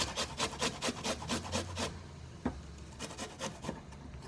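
Fresh ginger being grated by hand on a kitchen grater: a rapid run of rhythmic rasping strokes close up, a short pause, then another burst of scraping strokes.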